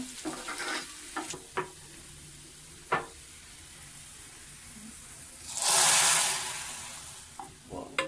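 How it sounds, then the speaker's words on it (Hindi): Cumin seeds sizzle in hot oil for a tempering, with a steady frying hiss, scattered clinks of stirring, and one loud burst of sizzling partway through. "बड़ा ज़बरदस्त इसका तैयार होता है तड़का।"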